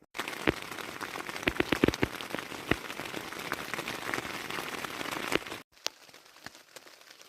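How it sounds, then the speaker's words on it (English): Steady rain patters on a surface, with scattered louder drops striking close by, in a rainforest in Olympic National Park; the downpour cuts out abruptly near the end, leaving a few isolated drips. "It is, of course, raining because we're in a rainforest."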